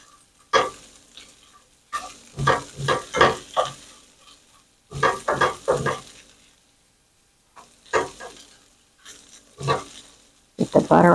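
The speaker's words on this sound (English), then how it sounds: "Get the butter all melted." Butter melts in a small skillet with bursts of crackling sizzle that come and go in uneven clusters, separated by quiet gaps, close and fairly loud.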